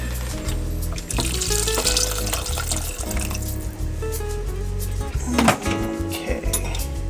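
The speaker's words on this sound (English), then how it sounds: "Now I will put some more water in here." Tap water runs steadily into a cooking pan holding chicken for homemade chicken soup, a continuous close splashing pour in a busy kitchen.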